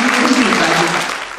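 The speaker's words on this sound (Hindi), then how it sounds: "तो मैं चाहूँगी एक बार जोरदार तालियों के साथ हम स्वागत करें।" Dense, loud applause from an audience welcoming a guest at a women's association event, a steady wash of many hands that thins slightly toward the end, with a voice faintly mixed in.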